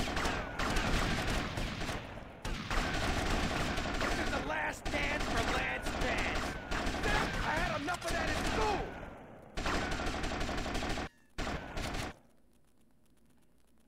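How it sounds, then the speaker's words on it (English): Gunfire in Grand Theft Auto: Vice City Definitive Edition, with dense bursts of shots and explosions that run almost continuously with brief gaps and then cut off near the end. The bursts are loud and close, and game dialogue or voices may mix in. "I'm missing every single shot."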